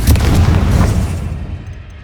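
A Confringo blasting spell detonates in Hogwarts Legacy on PS5: a loud, booming explosion that hits at once and rolls off into a decaying rumble over about two seconds.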